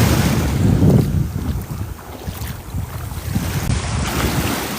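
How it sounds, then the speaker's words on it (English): Ocean waves roll onto a shell-covered beach at Lions Paw, a continuous surging wash with heavy wind buffeting the microphone and no talking. "Sometimes these waves rolling behind me sound like a whale coming up."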